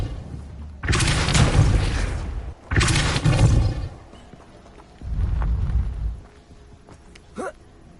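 The Depulso spell is cast repeatedly in Hogwarts Legacy, three heavy whooshing booms of about a second each, loud and close, separated by quiet gaps with a faint magical shimmer at the end.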